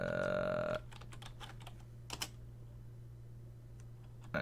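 Keys clatter on a computer keyboard in a few separate bursts of quick clicks, fairly close and quiet, following a short tonal hum at the start, with a steady low background drone from a Minecraft modpack game session.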